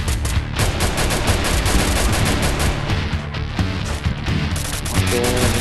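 Dense, loud bursts of gunfire fill a Free Fire video game match, with rapid overlapping automatic shots rattling almost continuously and no speech heard.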